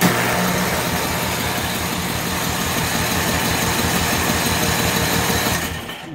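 Simplicity snow blower engine running after its electric starter is pressed, a steady, loud mechanical hum and rattle that holds for about six seconds before cutting off abruptly at the end.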